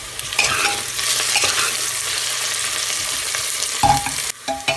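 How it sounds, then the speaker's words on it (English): Onions frying in hot oil toward golden brown for Shahi Mughlai mutton korma, a loud continuous close sizzle with spatula scrapes and knocks against the pan, including a sharp clatter near the end. "We'll fry them till they turn golden brown."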